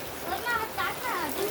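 Heavy rain pours steadily in a long downpour with water pooling on the ground, a dense continuous hiss filling the whole stretch with faint indistinct voices underneath.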